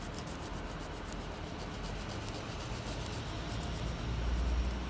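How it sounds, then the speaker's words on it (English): A nail file rubs back and forth across a fiberglass nail extension, producing a steady, close, soft rasping scrape with faint rhythmic strokes and no talking. "And then I'm doing the same thing with my file."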